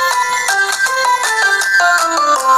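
A phone ringtone plays as a call to the doctor is placed, a loud melodic electronic tune of short repeating notes in a quick rhythm, heard alone and close.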